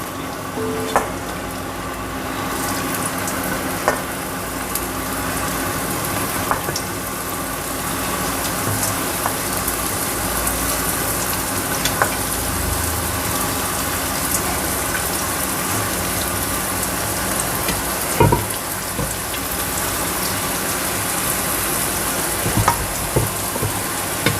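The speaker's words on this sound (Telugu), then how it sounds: "ఆయిల్ వేడెక్కిన తర్వాత ఇది ఇందులో వేసేద్దాం." Pieces of shark frying in hot oil, a steady dense sizzle and crackle that runs unbroken throughout at a close, fairly loud level, with occasional sharper pops and no talking.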